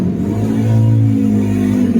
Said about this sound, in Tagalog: Mga sasakyan yan.